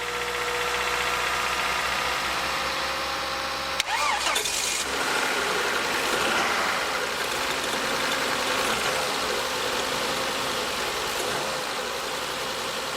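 A car that would not start fires up after a jump start from jump leads: a sharp crank and catch, then the engine settles into a steady, rough idle that runs on close by.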